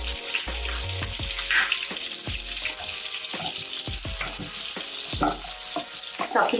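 Onions, mustard seeds and cumin frying in hot oil, a loud constant sizzle and crackle with a rapid series of spatula knocks and scrapes against the pan.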